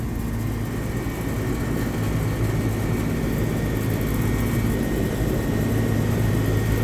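A reciprocating compressor on an office air conditioner just switched on, giving a steady loud low-pitched drone and hum with a faint higher whine, continuous and close.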